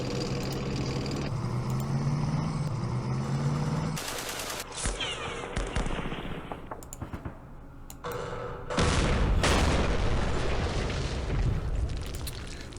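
Tank guns and battlefield fire in the wargame Campaign Series Middle East, with loud booms and rattling bursts that overlap busy background game audio. Several sharp blasts break out midway and near the end.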